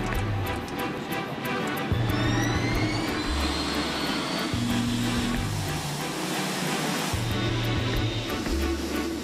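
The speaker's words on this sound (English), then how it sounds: "The 747-8 Intercontinental, the newest and largest version of the company's iconic jumbo jet, is taking off for the first time." Boeing 747-8 Intercontinental jumbo jet on its first takeoff, a loud, sustained jet engine roar with a rising whine, overlaid by a low musical score that shifts in steps beneath it.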